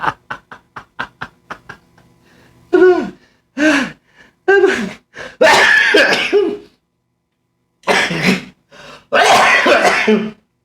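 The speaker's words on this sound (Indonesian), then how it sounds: "Kami batuk" A rapid series of short clicks, then several harsh coughing bursts with gasps and throat clearing in between, loud and close.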